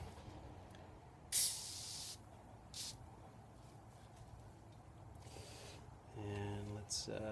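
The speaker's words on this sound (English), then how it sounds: "grab some good old starch here, get that rocking, and we're going to spray this guy up" Two short hissing sprays from a can of spray starch, one longer then a quick second burst, close by, followed by faint rustling and a brief voice.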